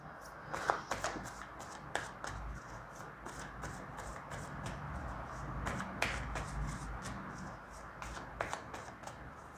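Osho Zen tarot cards are shuffled by hand close up, a run of quick riffling flicks and soft slaps that continue at a quiet level through the whole stretch.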